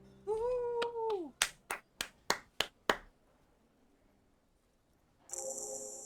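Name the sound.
applause in a video game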